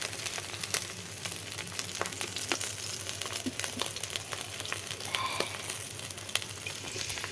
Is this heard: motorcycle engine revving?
no